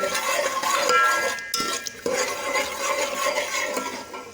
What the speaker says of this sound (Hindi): इसको 2-3 मिनट ऐसे में मिक्स कर लूँगी